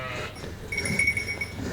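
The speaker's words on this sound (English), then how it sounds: "that's a black sheep" Black sheep on a pilgrimage trail in the Le Puy region of France giving a short bleat, close and fairly loud, with a faint clink nearby.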